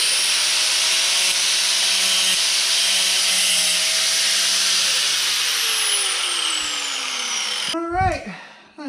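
A power tool chamfers the edge of a part during an LT-1 engine rebuild, whirring in a steady close drone for several seconds before cutting off, followed by a short burst of clattering and shuffling.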